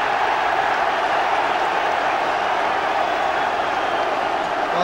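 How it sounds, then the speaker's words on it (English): A football crowd at Portsmouth versus Nottingham Forest in the 1992 FA Cup sixth round applauds in a steady, unbroken wash of clapping from a large stadium audience, evenly loud throughout. "Well, it's a pity to hear the applause."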